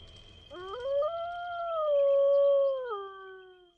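A single long canine howl rises smoothly, holds a steady wavering pitch, then drops off at the end, sounding clear and fairly close over quiet surroundings.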